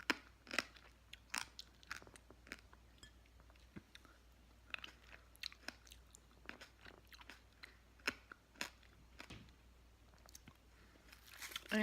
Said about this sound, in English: I'm eating crunchy grapes.